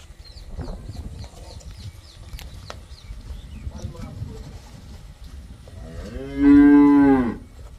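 A cow on a village dairy farm lets out one loud, close moo near the end, with faint birds and ambient farm noise before it.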